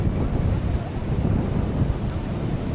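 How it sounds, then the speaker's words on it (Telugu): Wind buffets the microphone over the low rumble of waves at Kovalam beach in Kerala, a continuous blustery roar with surf beneath and no clear talk. "సో కోవలం అనేది చాలా ఫేమస్ బీచ్ అనమాట కేరళలో."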